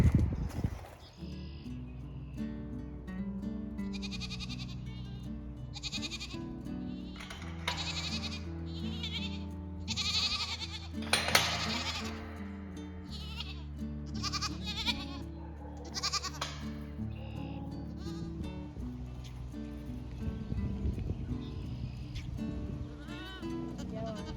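Goats on a farm during a drought bleat repeatedly, several calls overlapping and coming from close by, with some shuffling and movement noises in between.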